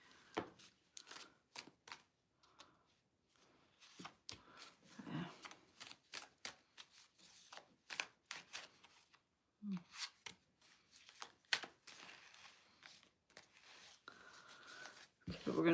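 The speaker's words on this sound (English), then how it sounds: "we're going to shuffle one more time" A deck of playing cards is shuffled close by, giving repeated crisp riffling bursts and soft slaps mixed with handling noises, while a person talks intermittently over the card sounds.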